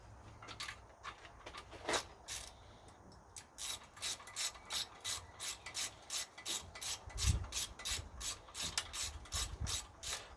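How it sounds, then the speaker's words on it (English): Repeated ratchet clicking in short bursts from a standard ratchet with an extension rod, growing steadier and louder as a bolt on a 2008 Honda Accord is worked loose, with faint scraping and clunks underneath. "you've got an extension rod and a standard ratchet to start with"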